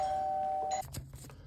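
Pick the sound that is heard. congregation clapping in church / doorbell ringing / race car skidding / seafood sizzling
doorbell ringing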